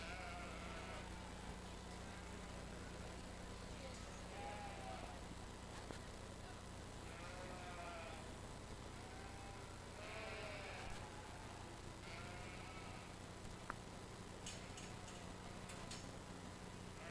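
Sheep bleating in a show ring at a county lamb show, breeding ewes calling in several drawn-out bursts over a steady crowd and fan hum, with occasional ticks and clicks.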